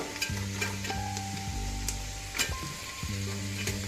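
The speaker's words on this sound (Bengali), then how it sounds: "তারপর একটু আমি হালকা করে ভেজে নেবো বাদামগুলো" Nuts fry lightly in a pan with a bright, constant sizzle, scraped now and then by a stirring spoon, while sustained steady tones ring in the background throughout.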